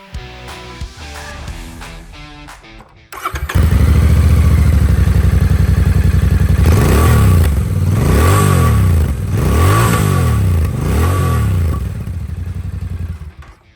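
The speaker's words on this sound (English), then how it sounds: "let me make you hear the new exhaust note" A Royal Enfield Bear 650 motorcycle's exhaust note, starting with a short idle, then a loud, deep steady rumble close by, followed by several rhythmic revs that rise and fall one after another.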